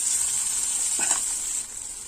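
Onions and chillies sizzle in a hot pan while sautéing, with a constant bright hiss, and a brief stir or scrape sounds midway.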